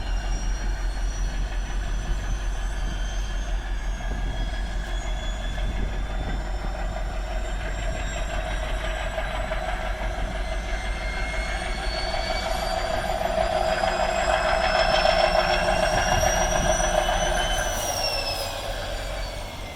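A diesel towboat pushes a barge through a train bridge at Clinton, Iowa, giving off a steady low engine rumble with a faint tonal whine that grows louder toward the end, with no talking.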